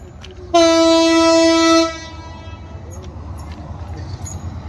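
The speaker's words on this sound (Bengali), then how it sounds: "বুড়িমারি এক্সপ্রেস মনে হয় হবে সম্ভবত। এটাও কিন্তু মিটার গ্রেজ ট্রেন।" A metre gauge passenger train, likely the Burimari Express, sounds a loud, clear horn blast lasting over a second at a station, followed by a low rumbling of rolling wheels that continues quietly.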